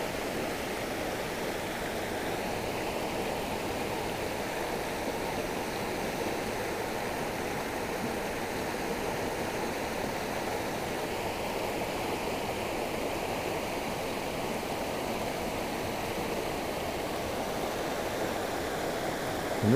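Water flowing steadily at the edge of a creek along a woodland trail in Buck's Pocket, a constant broadband rush with no breaks, close and even in level throughout.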